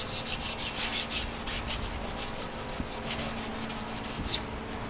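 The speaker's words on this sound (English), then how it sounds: "You want to take some sandpaper or emery cloth, just go around and clean it up nice and shiny." Sandpaper or emery cloth rubbing around the drum shaft of a Speed Queen commercial washer, a steady rhythmic scrubbing in quick repeated strokes, close and alone.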